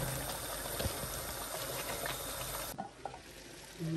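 Mutton frying in oil with masala for a street-food biryani, a dense, steady sizzle with faint stirring scrapes that cuts off abruptly near the end, leaving a few quiet clinks.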